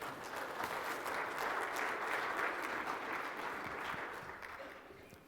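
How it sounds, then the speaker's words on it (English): A church audience claps for Pam, a warm round of applause at moderate distance that holds steady, then fades out over the last seconds. "Let's give Pam another round of applause"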